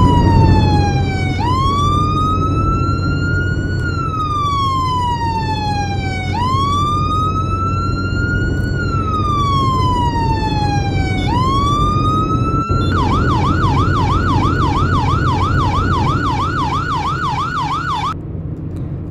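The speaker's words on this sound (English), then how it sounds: "I guess our sirens are super loud" Loud video game police sirens wail continuously, sweeping up and down repeatedly before switching to a rapid yelp pattern, close and dominating.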